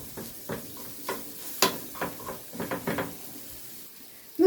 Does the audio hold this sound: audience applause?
no